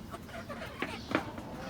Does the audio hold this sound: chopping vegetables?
no